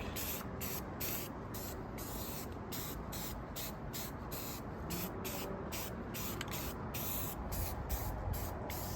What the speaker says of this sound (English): Just spraying on some black.